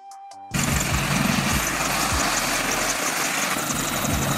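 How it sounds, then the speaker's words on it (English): A military helicopter for defense missions flies close by, its rotor thumping steadily under a loud, continuous broadband engine roar that starts abruptly after a brief quiet moment. "Military helicopter, helicopter for defense missions."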